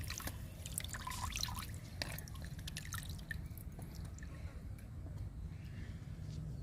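Filtered groundnut cake liquid drips into buckets, with scattered irregular drips and small splashes over a low, steady background murmur, close by and fairly faint.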